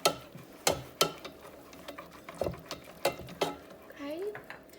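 A spoon stirs maple syrup into homemade peach BBQ sauce in a bowl, giving quiet, irregular clinks and scrapes close by, with a faint voice near the end.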